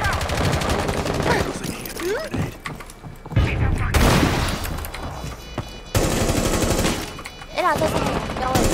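Gunfire in the tactical shooter Rainbow Six Siege: loud rapid automatic bursts and single shots in quick succession, with a boom and thuds, while players talk over the shooting.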